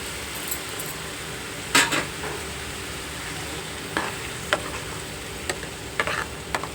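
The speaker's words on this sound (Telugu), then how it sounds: "ఉల్లిపాయ టమాటా పేస్టు బాగా వేగింది" A paste of onion and tomato fries in a pan with a constant low sizzle, broken by sharp, scattered clicks and scrapes as a spoon stirs it against the metal.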